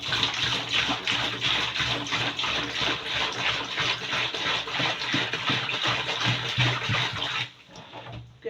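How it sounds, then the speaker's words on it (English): Water steadily poured into a bowl while making liquid soap, a continuous loud splashing gush lasting several seconds before it tapers off. "Okay, this is the remaining water."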